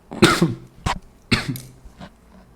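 A few harsh coughs and throat-clearing bursts, close to the microphone, spaced out over a couple of seconds with brief quiet gaps between.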